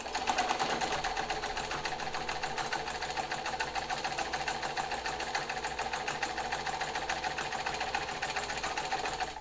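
A restored sewing machine runs a stitching test, its needle mechanism chattering in a fast, steady rhythm from start to finish, loud and close with no talk.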